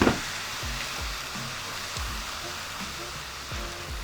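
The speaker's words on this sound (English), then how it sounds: "I'm gonna add a splash of water just to deglaze the bottom." Steady, loud sizzle of a splash of water hitting a hot pan of onions to deglaze the stuck bottom while cooking vegan beef stroganoff, a dense hiss running the whole time with faint low clatter underneath.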